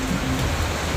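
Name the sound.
heavy rain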